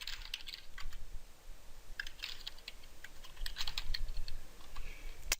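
Steady, fairly quiet typing on a computer keyboard while entering column headings into an Excel spreadsheet, with continuous light key clicks and a few sharper taps over a low background hum.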